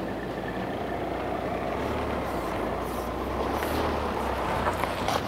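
An overloaded car arrives, its engine a steady, low rumble that grows slightly louder as it nears, with a faint background hiss and no talking.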